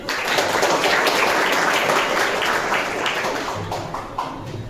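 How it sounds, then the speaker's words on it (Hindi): An audience at a school health-awareness session gives a speaker a dense, continuous round of applause, loud and close, holding steady before easing off slightly toward the end. "पंकज सर के लिए ताली बजाइए"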